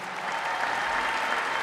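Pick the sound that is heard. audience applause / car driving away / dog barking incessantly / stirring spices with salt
audience applause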